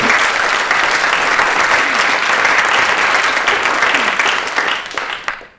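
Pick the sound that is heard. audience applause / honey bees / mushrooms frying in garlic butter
audience applause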